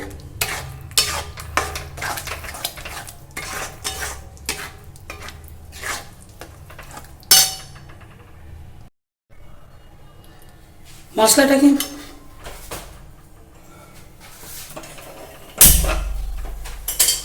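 Spices for chicken curry being sautéed and stirred in a pan, a spatula scraping and clinking against metal in repeated strokes over a low sizzle, with a few louder knocks and a brief gap of silence.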